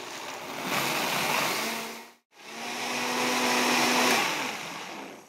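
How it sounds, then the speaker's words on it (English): A blender whirs loudly, blending oats into waffle batter, with a steady motor roar that cuts out briefly near the middle and then starts up again and runs to the end. "I'm just going to start the blender here."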